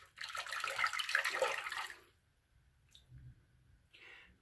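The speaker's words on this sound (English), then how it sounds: "always rinse out your razor. Makes it easy." A safety razor is rinsed under running water, a full splashing gush for about two seconds, then quieter trickles and a brief final rush of water.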